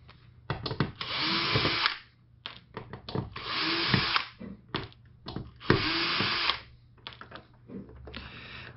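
A power screwdriver removes screws from the back of a SEMP TCL L49S4900FS LED TV under repair, whirring in several short and longer bursts with gaps between, close and clear with no talking.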